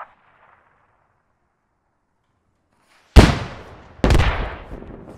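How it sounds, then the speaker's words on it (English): Two heavy mortar rounds launch in the military game Squad, booming loudly about a second apart and each rumbling away, after a long stretch of near silence. "Six rounds outbound, 15 seconds."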